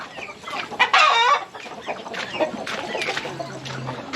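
Chickens clucking nearby on a farm in the Philippines, a young rooster among them, with a loud burst of agitated squawking early on, then steady clucking and rustling through the rest.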